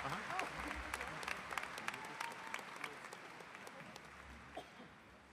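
Crowd applause at a high school graduation ceremony, a steady spread of many hands clapping at a distance, gradually thinning out over several seconds with faint voices mixed in.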